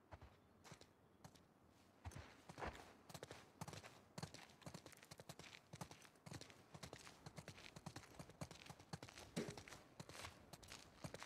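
Horse hooves clop in a quick, uneven clatter in The Last of Us Part II, close and fairly loud, like several horses moving together over hard ground. No one speaks.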